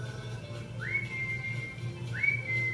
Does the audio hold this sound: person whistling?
yes